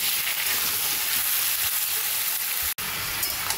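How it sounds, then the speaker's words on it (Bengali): Continuous loud sizzling and crackling of drumstick, pumpkin, potato and carrot frying in a hot pan, with a brief cutoff near the end. "এই সবজিগুলো একটু ভাজা ভাজা করে নেব।"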